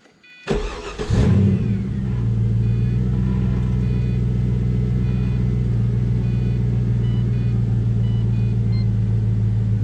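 A 2004 Pontiac GTO with a throttle position sensor problem cranks briefly and catches, then settles into a steady, deep, even idle rumble heard up close for several seconds, with no talking.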